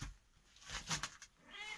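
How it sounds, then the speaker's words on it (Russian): Kittens on a home farm, faint mewing cries rising against quiet room noise, a brief brighter call near the middle and softer mews toward the end, no talking. "А вот котята."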